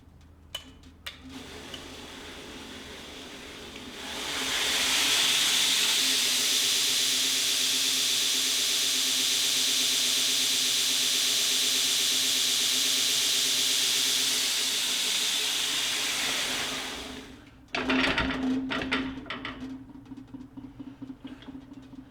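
A belt grinder fitted with a glass platen liner spins up and runs alone with a steady, loud whirring hiss for about thirteen seconds, then winds down, followed by a few clicks and knocks.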